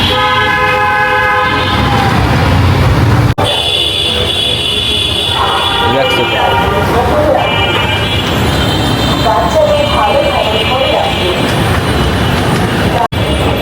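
A Dhaka metro rail train near the Dhaka University station rumbles close by, and bright tonal horn or signal tones sound over it, with a few shifts in pitch. Faint voices mingle in the background.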